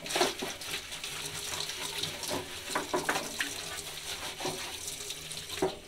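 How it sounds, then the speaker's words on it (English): Paint roller tray rinsed under a running faucet, continuous splashing water with spattering bursts as the stream strikes the tray, close and steady. "With the roller tray, I'm just going to rinse it off."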